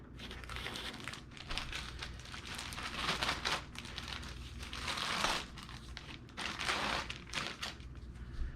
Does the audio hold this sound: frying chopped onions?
no